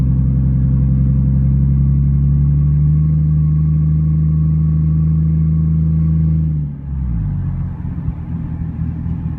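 Turbocharged Toyota SC300 engine pulling hard from inside the car, a loud sustained drone climbing steadily in pitch for several seconds, then dropping off abruptly as the throttle lifts into a lower rumble, with no voices.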